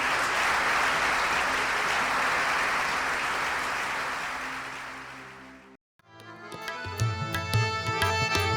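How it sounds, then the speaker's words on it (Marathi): A church congregation gives Jesus a long, loud round of applause that gradually tapers off, followed after a short pause by music starting up. "एक जोरात येशूसाठी टाळी वाजवा."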